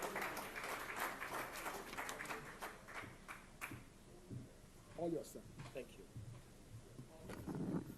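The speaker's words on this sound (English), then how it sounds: "Ladies and gentlemen, huge round of applause for Mr. Barun Das, Managing Director and CEO" Audience applause at a News9 Global Summit in Germany as a TV9 Network executive takes the stage to give the opening address; dense clapping fills the room steadily, then thins into scattered claps.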